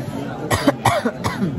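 Three quick coughs in a row, close and moderately loud, spaced evenly over a second and a half.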